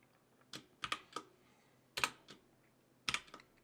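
Computer keyboard typing code, a few scattered clusters of crisp key clicks separated by quiet pauses, close and fairly faint.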